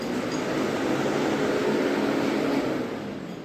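The fan of a remote control floor tile cleaning robot runs with a loud, steady whirring rush that holds evenly, then eases slightly at the very end.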